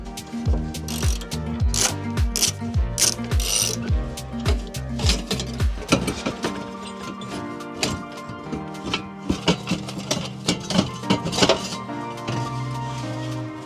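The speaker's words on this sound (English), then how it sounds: "I'm also gonna work on getting the hanger bolts off, which is a 13mm." A ratchet wrench clicks in quick repeated bursts while loosening 13mm exhaust hanger bolts under an 8Y Audi RS3, with close metallic ratcheting and occasional clunks of tool on metal.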